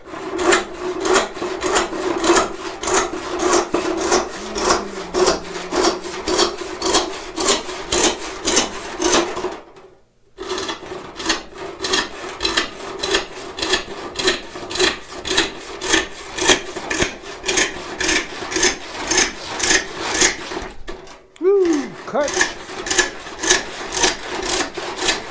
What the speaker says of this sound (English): This is a 5 PPI handsaw.